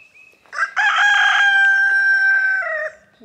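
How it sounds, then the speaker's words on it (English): A rooster gives one loud, close cock-a-doodle-doo crow lasting about two seconds, outdoors in a farmyard with sheep grazing nearby, with a short lead-in note before the drawn-out call. "Pretty rooster strutting around."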